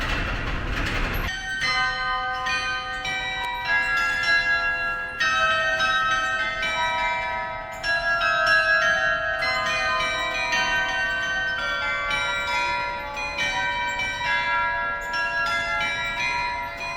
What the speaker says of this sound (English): the pins fall against hammers, and the hammers then fall against bells, and that's what makes the music.